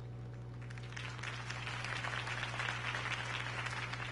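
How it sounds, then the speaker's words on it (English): Applause from a crowd at a political campaign rally for Harvey Dent, building from a scattered start into steady clapping over a low constant hum, with no voices. "If only Mr. Wayne, my campaign's largest backer, could have heard that applause"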